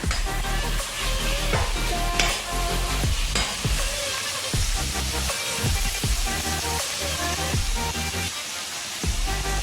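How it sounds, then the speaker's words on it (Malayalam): Onions sizzle loudly in a pan for chicken curry, a steady dense frying hiss broken by repeated scraping stirs, close up with no talking. "ഉള്ളി ഇട്ട് കഴിയാനായിട്ടുണ്ട്. കഴിഞ്ഞു. ഇനി നല്ലോണം ഇളക്കി കൊടുക്കണം."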